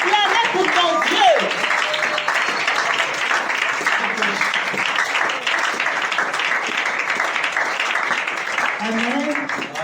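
A church congregation applauds and cheers for God, a loud, sustained wash of clapping with shouting voices mixed in throughout.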